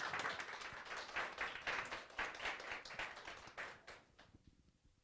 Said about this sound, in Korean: 우리 나오실 때 박수로 한번 환영하겠습니다